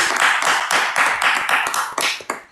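A church congregation claps together in a steady, loud rhythmic beat, the dense applause filling the room with evenly spaced bursts.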